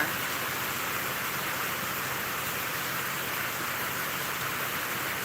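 Steady rain falls outdoors in Thailand, a constant even hiss of drops without breaks or voices, moderately loud and close throughout.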